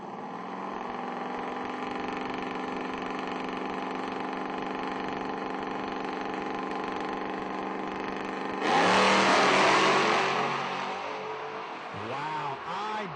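Drag racing at a footbrake race with a Sunfire and a Mustang: a long droning engine note builds, then a loud roaring burst as the cars launch, fading after a few seconds, with announcer talk over it.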